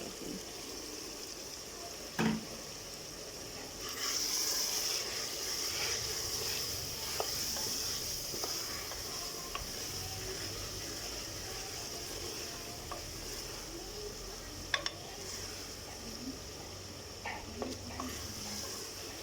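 Masala of salt, black pepper, red chili, turmeric and coriander frying in a pan, a steady close sizzle running throughout with occasional stirring clicks and scrapes, no talk.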